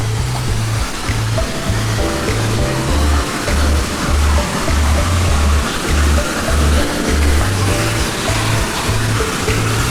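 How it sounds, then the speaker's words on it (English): A waterfall at a deserted site in Vietnam between Hue and Da Nang roars steadily and loudly throughout, a dense close rush of falling water with no break, while a faint repeating low tone pulses underneath. "Yeah, look at this waterfall."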